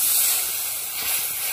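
Water swirled from a bowl hits hot oil with fried paste of chilli, white and black mustard and five-spice in a bitter gourd curry, a steady bright hiss lasting throughout without pauses or voices.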